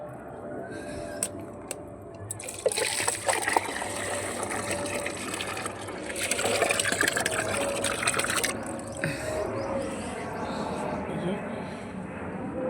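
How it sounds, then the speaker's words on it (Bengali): Oilcake-soaked water poured a little at a time onto pitulia plants, with a steady trickling, splashing flow that runs throughout and swells in brief louder gushes, while a voice speaks over it. "পিটুলিয়া গাছে এই যে খোল ভিজানোর জল একটু দিই অল্প অল্প করে"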